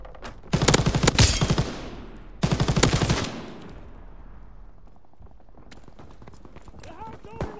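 Bursts of rapid automatic gunfire in Call of Duty WW2, two loud close volleys of a few seconds each, then fading echoes and scattered distant shots with shouting voices in the background.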